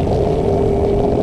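Stroked-up motorcycle engine running under test with a 58 mm stroke, a loud, steady, continuous drone with a sustained tone and no pauses.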